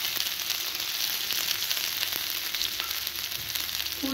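Green chili and ginger frying in hot oil with cumin, a steady dense crackling sizzle that stays even and close throughout, with no talking.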